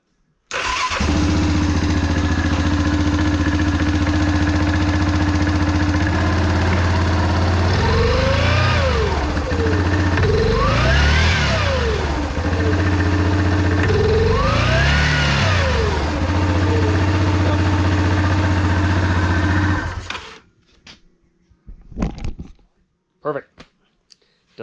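Yamaha Grizzly 700 ATV engine cranks and fires, then runs at a loud steady idle, rising in three short revs before cutting off, leaving only faint handling noises.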